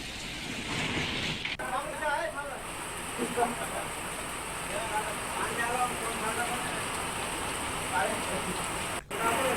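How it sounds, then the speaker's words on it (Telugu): Heavy rain pours down over Hyderabad in a dense, continuous hiss of drops hitting surfaces, with faint voices murmuring beneath the downpour. "నగరంలో పలు చోట్ల భారీ వాన పడుతోంది."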